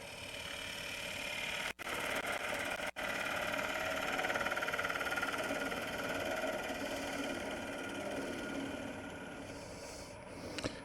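A wood lathe spins a ring bowl blank while a tool cuts across toward the center, giving a steady droning whir and rough scraping that runs almost unbroken, briefly cutting out twice early on.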